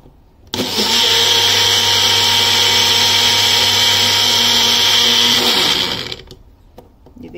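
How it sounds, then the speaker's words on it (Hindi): An electric blender whirs loudly and steadily for about five and a half seconds, blending curd and sugar for sweet lassi, starting abruptly and then winding down, with no talking. "अब मैं इसको ब्लेंड करूंगी। इसको हम ब्लेंड कर रहे हैं।"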